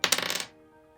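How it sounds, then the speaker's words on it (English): A single die rolled onto a hard surface, giving a quick burst of bright clattering taps over about half a second, then a brief ringing fade, close and fairly loud. "I'm just going to roll a dice"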